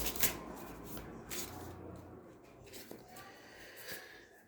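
Tarot cards being shuffled by hand, a soft papery riffling and sliding that comes in faint, close bursts over a low background hum.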